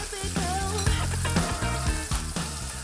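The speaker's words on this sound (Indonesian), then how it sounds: "iga yang sudah dibumbu kita goreng di dalam wajan berisi minyak panas" Seasoned beef ribs fry in a wok of hot oil with a loud, continuous crackling sizzle, close up, while faint background music plays underneath.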